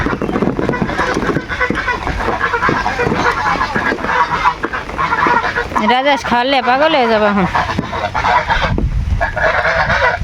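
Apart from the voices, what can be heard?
ducks quacking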